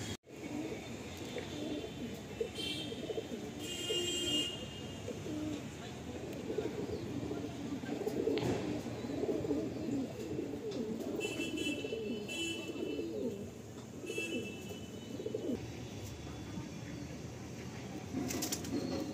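A pair of Kalanka pigeons coo softly and flap their wings throughout, with a steady murmur of people talking in the background.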